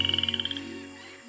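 A poison dart frog in a rainforest gives a rapid, even train of about a dozen high chirping croaks. The calls are close and clear and fade out after the first half-second.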